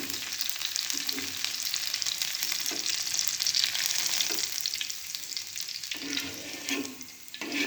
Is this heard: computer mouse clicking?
no